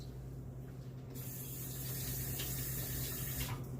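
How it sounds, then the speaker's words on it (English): Hands are rinsed under a running kitchen tap while making pumpkin pie, a low steady hum giving way to a fuller, louder gush of water about a second in that continues to the end. "Let me rinse my hands."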